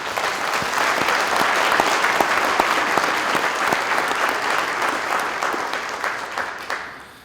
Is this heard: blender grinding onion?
no